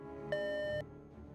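A single clean electronic beep from the CatScan voice recognition system in the Toonstruck game, a steady pure tone lasting about half a second over quiet background hum.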